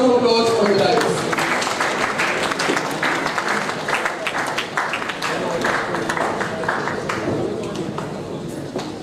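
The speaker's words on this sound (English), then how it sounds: "May we please welcome Sir with a huge round of applause on the dais." Conference audience applauding a keynote speaker as he comes onto the dais: a thick, continuous wash of clapping from a large crowd that gradually thins, with a voice near the start and murmuring underneath.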